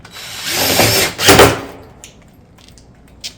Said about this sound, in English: fasten down into my 2x2